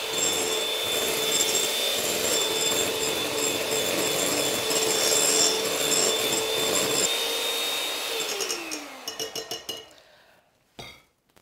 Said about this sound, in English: now we add some caster sugar and whisk it into the mix